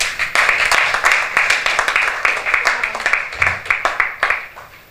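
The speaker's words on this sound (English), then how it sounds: "let's give her another round of applause" An audience at a World Cancer Day commemoration in Nigeria claps steadily, a dense crowd applause with sharp individual hand strikes that thins and softens toward the end.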